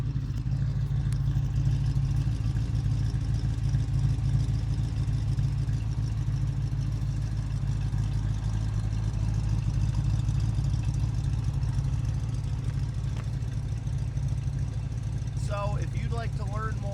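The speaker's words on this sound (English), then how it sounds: "Exhaust sounds awesome though." A 1969 Camaro with a 350 V8 and automatic transmission idles with a steady, deep exhaust rumble that stays loud and close throughout, with a brief sound near the end.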